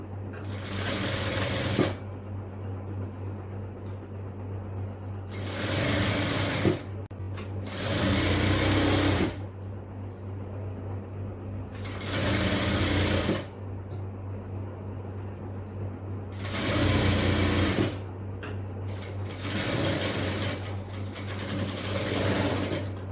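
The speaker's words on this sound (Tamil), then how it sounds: "இடுப்பு பகுதியில் 1/2 இன்ச்சு மடக்கி தைக்கலாம்" An electric sewing machine stitches a folded half-inch hem at a garment waist in repeated bursts of about two seconds each. Quiet pauses separate the runs, and a steady low hum continues underneath throughout.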